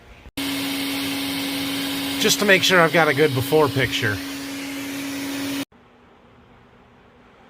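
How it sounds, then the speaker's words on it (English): A vacuum cleaner runs inside a truck cab, a steady loud whine with a constant hum that starts abruptly and cuts off near the end, while someone speaks over it. "time to vacuum."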